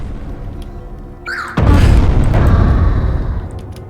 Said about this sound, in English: Oh yeah, that is basically a rocket launcher